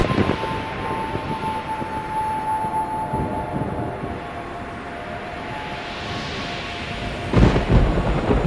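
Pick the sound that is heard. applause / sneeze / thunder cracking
thunder cracking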